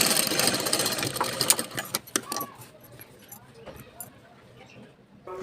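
A sewing machine stitches a blouse lining onto the main fabric in a run of rapid mechanical clatter that eases toward a quieter hum, with a person talking over it.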